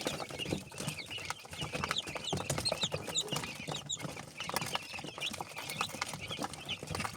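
Four-day-old quail chicks raised at home chirp busily while feeding, a dense, continuous twittering of many small birds close by, with no talk.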